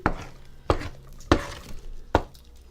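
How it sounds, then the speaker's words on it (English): A spoon stirs thick pumpkin-scented play dough in a pot, making four distinct, fairly loud thumps spaced roughly two-thirds of a second apart, with no talking. "I'm just going to continue to stir this"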